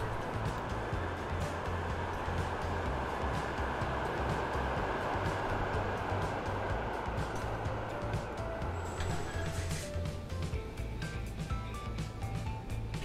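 Train pulling into a terminus in the railway simulation Transport Fever 2, heard as a steady rumbling roll with a low engine hum throughout, followed by a bright rising whine and brake-like tones near the end.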